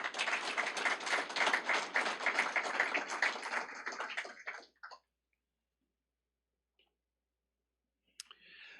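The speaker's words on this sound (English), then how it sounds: "Let's give Zachary a round of applause." Round of applause for a student at a career and technical education signing day at TCAT-Pulaski, dense clapping for about five seconds that stops abruptly, followed by near silence.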